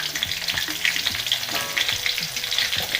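Garlic, shallots, bay leaves and bruised lemongrass sauté in hot oil for rice-cooker nasi liwet, a loud close sizzle with small crackling pops and occasional stirring clinks throughout.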